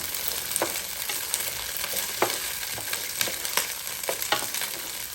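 Vegetables for a vegetarian casserole fry in a Power XL cooker. A steady close sizzle runs throughout, broken by scraping, clicking stirs about every half second.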